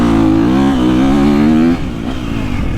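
A 2023 KTM 350 SXF dirt bike engine revs loudly up close, a buzzing high-revving note that holds and wavers before suddenly dropping off toward idle.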